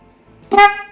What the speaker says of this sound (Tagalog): magiging tunog po ng ating busina o yung horn